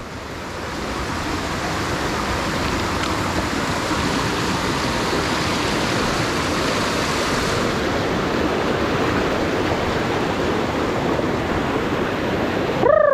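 Constant roaring rush of a waterfall in southern Laos, broad and steady throughout, loud and close with no voices.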